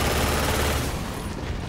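A minigun fires in the video game Hazard Ops, one continuous rapid-fire burst, loud and close, that rattles for about a second before easing into a fading tail.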